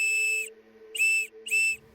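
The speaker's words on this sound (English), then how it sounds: "You can hear whistles, especially diving whistles." Three sharp, shrill blasts from a diving whistle, each about half a second long with short gaps between them, loud and close, with a faint steady hum underneath.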